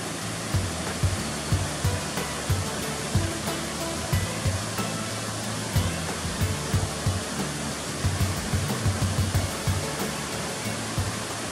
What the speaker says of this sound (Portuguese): mais imagens das corredeiras do Rio Japuré em Miravânia